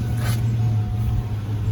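A Chevy car engine idles steadily and loudly up close at a junkyard, a constant low rumble with no clear revving.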